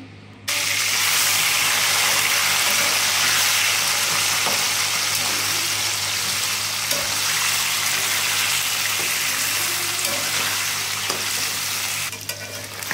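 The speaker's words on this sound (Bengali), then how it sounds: "এখন আমি চিকেনটাকে মাখিয়ে তারপরে তেলে ভেজে নেব হালকা" Marinated chicken pieces fry in hot oil in a preheated pan for a chicken biryani, giving a loud, steady, continuous sizzle that carries on alone and eases slightly near the end.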